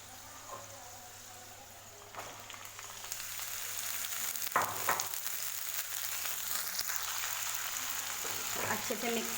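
Potatoes and cowpeas (lobia) frying in a pan, a quiet steady sizzle with occasional stirring clatter and scraping growing slightly louder midway, alone without voices.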